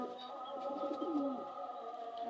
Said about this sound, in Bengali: এই যে আরেকটি আমার কবুতর